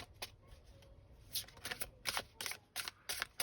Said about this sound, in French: Allez, on bat les cartes pour le mois d'août, s'il vous plaît.